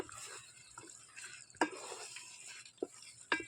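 A spoon stirring coriander and mint masala into chicken in a pot for gongura chicken, faint scraping and a few isolated clinks against the vessel.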